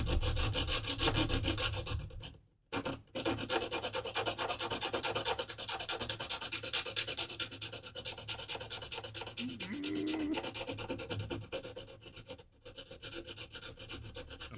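A hand saw rasps back and forth through terrain material in a continuous rough rubbing rhythm, close and fairly quiet, pausing briefly once before resuming.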